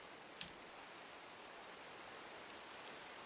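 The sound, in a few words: rain falling in the video game Minecraft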